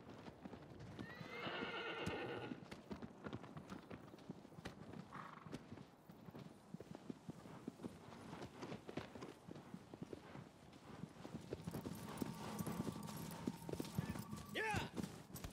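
A horse gallops in the video game Shadow of the Colossus, its hooves clip-clopping in a rapid rhythm with occasional neighs and whinnies, fairly quiet overall, while a person talks over it.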